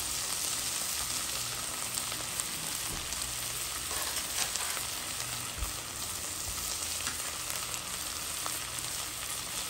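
Onions frying in a pot for rougail, a steady dense sizzle close by with faint stirring and no talk over it.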